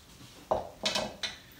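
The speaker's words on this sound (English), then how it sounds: "Use this to scrape the last of the egg out." A utensil scrapes the last of the beaten egg from a bowl in three quick, soft clinking scrapes against a quiet kitchen background.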